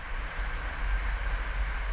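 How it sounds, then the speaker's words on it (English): A train on a nearby railway track rolls past out in the countryside along a canal. It makes a steady, continuous rumble and rattle at a moderate distance, heard alone without talk. "That's the train. There's actually a train track running nearby as well."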